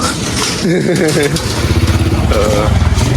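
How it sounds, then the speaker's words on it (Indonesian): A motorcycle passes behind a person on a village road in rural West Java, its engine rising and pulsing under steady nearby talking. "Kebetulan ini di belakang saya ada motor, sahabat."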